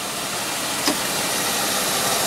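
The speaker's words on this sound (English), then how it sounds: "So with the engine running, just listen to it." A Jaguar X-Type 2.5 V6 engine idles steadily, a smooth even hum with a single brief click partway through and no talking.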